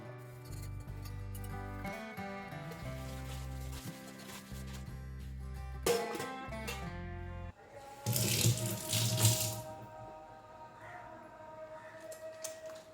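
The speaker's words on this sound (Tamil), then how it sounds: "பாத்திரங்கள்லாம் அலசி வச்சு முடிச்சதுக்கு அப்புறமா" Water runs from a tap in steady bursts while dishes are rinsed in a kitchen sink, with brief pauses and clinks between, and a louder gush of splashing toward the end.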